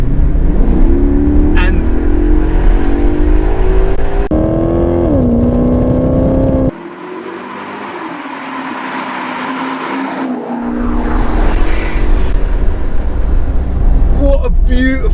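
A deep, loud naturally aspirated 4.7-litre V8 in a Maserati GranTurismo S revs up and settles, rising and falling pitch with a throaty roar, then idles low before revving again; brief speech.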